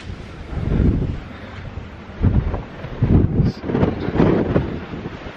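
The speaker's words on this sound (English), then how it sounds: "you can already hear the wind racing through the stone and the building." Strong wind roars at the top of Peel Tower, a stone building, buffeting the microphone in uneven gusts that swell and fade, loud and continuous with no voices.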